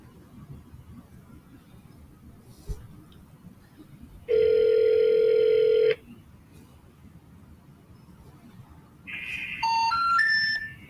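A telephone plays a loud steady dial tone for about a second and a half after a quiet pause, then near the end a burst of rapid stepped dialing or ringing tones.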